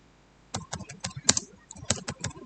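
Typing on a computer keyboard while building a database, with a quick run of close, crisp key clicks and a few louder keystrokes spread over the clip, alone without talk.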